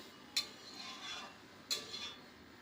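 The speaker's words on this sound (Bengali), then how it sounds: "এবার নেড়ে চেড়ে মিশিয়ে দেব।" A spoon stirs broccoli soup thickened with rice flour in a pan, two sharp clinks against the metal followed by soft swishing, quiet and close with no talking.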